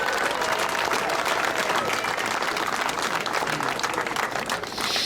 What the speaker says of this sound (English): Folks, nice round of applause for Mr. Vern Hodgkin.